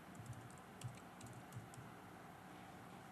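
Steady typing on a computer keyboard during a terminal session, with soft, quick key clicks in an uneven run and a few slightly louder strikes, close and quiet with no voices.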